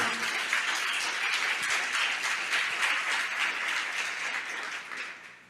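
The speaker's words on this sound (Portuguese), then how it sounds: "Você pode aplaudir ao Senhor" Church congregation applauding the Lord during a sermon, steady sustained clapping from many hands filling the room, fading slightly at the end.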